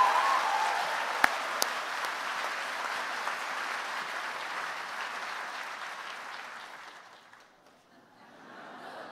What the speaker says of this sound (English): Let's give all these winners a round of applause.